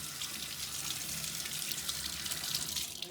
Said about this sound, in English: So let's quickly rinse it under some water so you can see it better.